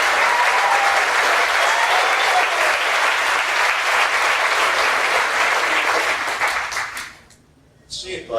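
A comedy club audience applauds a stand-up comedian, Michael Orenstein, in Indianapolis in 1998: loud, sustained clapping and cheering from a full room that keeps up for about seven seconds, then drops away sharply before a brief return.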